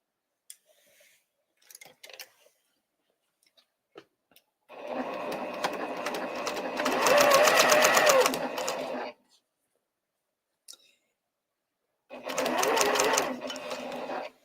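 A sewing machine stitches a 3-yard Fascination quilt in two steady, rapid runs: a long stretch followed by a pause, then a shorter burst. Faint clicks and handling noises fill the quiet gaps.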